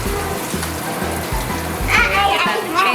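Water running from a newly installed kitchen faucet in its waterfall mode, a steady close splashing stream with a voice chattering over it.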